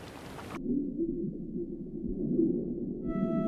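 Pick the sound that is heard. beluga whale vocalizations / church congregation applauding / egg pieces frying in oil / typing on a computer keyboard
beluga whale vocalizations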